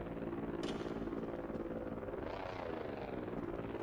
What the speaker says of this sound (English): We can even watch the drone come in and then leave on our radar here. So you can hear it get up and start flying away.